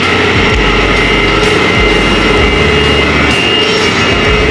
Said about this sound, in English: We just sanded the edges, but we're gonna sand it.